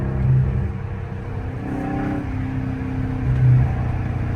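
A Dodge Scat Pack idles and revs in traffic with a deep, continuous engine rumble that swells into two throaty surges, heard from inside the car.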